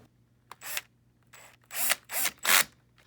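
A power driver with a hex head bit drives bracket screws into a rail in several short whirring bursts, close and fairly loud, separated by brief pauses.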